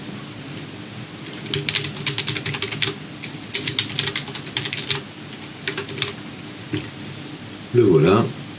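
Computer keyboard typing in uneven bursts of quick key clicks, close and moderately loud, with a short thump near the end; a voice speaks in French over parts of it.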